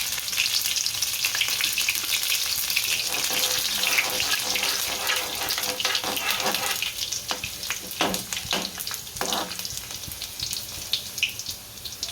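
Cumin seeds and chillies hit hot oil for Gujarati masala bread, giving a loud, steady sizzle throughout with sharper crackling bursts and stirring scrapes toward the end.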